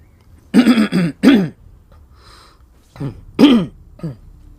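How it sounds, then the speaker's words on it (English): Close, dry throat clearing and short coughs from a single person, coming in separate bursts with quiet gaps between them. "Apologies again if any of my coughing got left in there"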